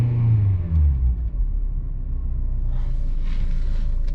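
A 2006 Honda Accord engine runs steadily after a no-start repair, with a deep low rumble and a brief revving rise near the start before settling into an even drone, close and loud with no talking.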